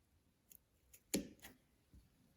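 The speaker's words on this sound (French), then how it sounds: "couper avec une paire de ciseaux qui coupe correctement. On va faire des petits crans." Scissors snip small notches into two layers of fabric for a handmade Christmas decoration. The cuts come as a few quiet, sharp clicks spaced irregularly, one of them louder and crisper, in an otherwise silent room.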